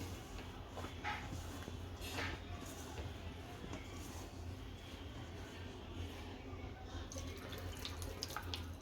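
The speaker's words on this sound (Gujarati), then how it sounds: "પછી થોડું થોડું પાણી નાખતા જઈએ." Water trickles and splashes into a bowl of gram flour batter for green garlic bhajiya, a soft, continuous pour with small drips and faint knocks, fairly quiet, with occasional speech in the background.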